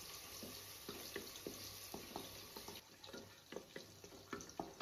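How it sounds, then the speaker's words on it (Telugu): Onion paste frying in a pan, a faint steady sizzle with soft, regular scraping strokes of a spoon stirring it. "ఆనియన్ స్మెల్ రాకుండా బాగా బ్రౌన్ కలర్ వచ్చే వరకు వేగించుకోవాలి."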